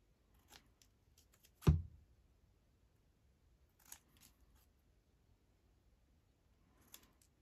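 Scissors snipping through a paper craft piece at a desk, one crisp close cut followed by a few softer, scattered snips and clicks in a quiet room.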